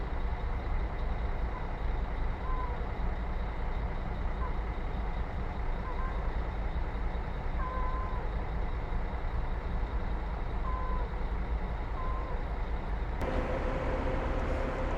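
Buses idle and manoeuvre at the Goiânia bus station, a continuous loud diesel rumble with faint intermittent beeps; the engine tone shifts abruptly near the end.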